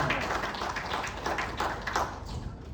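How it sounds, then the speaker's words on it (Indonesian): A church congregation claps for God, producing a loose, uneven patter of many hands with scattered sharper claps over a soft room murmur. "Beri tepuk tangan bagi Tuhan."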